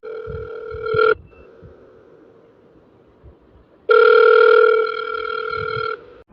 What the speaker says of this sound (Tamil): மலருக்கு ஃபோன் பண்ணி கேட்டுரு